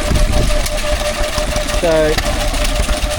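A small two-stroke stationary engine runs steadily at a rural country show, its rapid mechanical chugging continuous under people talking nearby.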